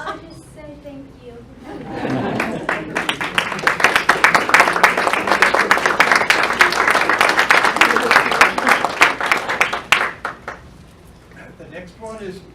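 Audience applause at an art exhibition opening reception, clapping swelling in after a quiet start, holding steady for several seconds, then fading, with talk before and after.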